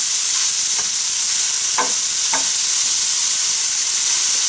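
Pumpkin with onion and carrot sizzles loudly and steadily in a frying pan, with a few scraping strokes as a bamboo spoon stirs the vegetables. No one speaks.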